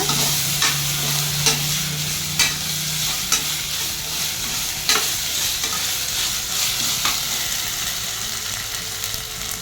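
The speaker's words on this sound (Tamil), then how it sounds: "இது கூட இஞ்சி பூண்டு பேஸ்ட்டு சேர்த்துக்கலாம் இதையும் சேர்த்து நல்லா வதக்கிக்கோங்க" Chicken gravy with ginger-garlic paste sautéing for a pressure-cooker recipe: a steady oily sizzle broken by regular scraping strokes of a spatula stirring the pan, close and loud, with no talk.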